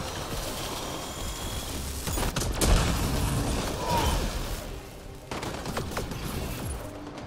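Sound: gunshots in video game Apex Legends

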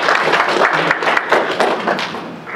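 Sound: audience applause at public hearing

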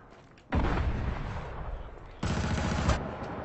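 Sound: gunfire in video game Killzone Shadow Fall multiplayer

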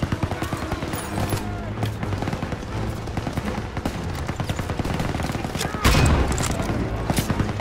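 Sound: machine gun fire in video game Call of Duty: WWII

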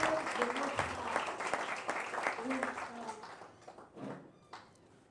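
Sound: audience applause and cheers

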